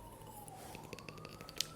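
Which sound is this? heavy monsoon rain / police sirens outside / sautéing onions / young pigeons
police sirens outside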